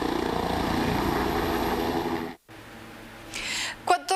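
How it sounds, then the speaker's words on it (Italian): A SUEM 118 emergency rescue helicopter lifts off with a loud, continuous rotor and engine roar that cuts off abruptly, followed by quieter background noise and a few short sounds. "L'elicottero del SUEM 118 si è rialzato in volo poco prima di mezzogiorno."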